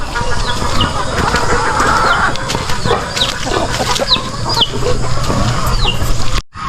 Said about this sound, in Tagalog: Ang maliliit na manok pa naman yan.